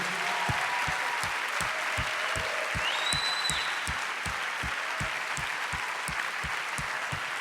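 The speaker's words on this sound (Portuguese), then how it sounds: "Se você puder aplaudir mais forte, por favor." Church congregation claps during a service, a broad wash of applause with a rhythmic thump beating steadily underneath, like a drum or stomping in time, and a faint whistle partway through.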